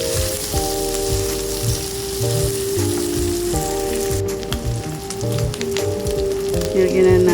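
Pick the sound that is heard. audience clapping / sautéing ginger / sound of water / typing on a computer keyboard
sautéing ginger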